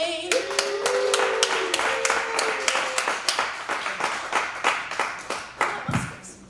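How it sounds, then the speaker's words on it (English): A comedy club crowd claps for a stand-up comic coming on stage: a burst of close, sharp handclaps that starts full and gradually thins into fewer, distinct claps near the end, with brief voice-like tones at the very start. "give him a big round of applause"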